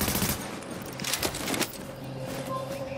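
Automatic gunfire from a newly acquired gun rings out in The Division, with rapid bursts of shots followed by a lingering tone and quieter game sounds.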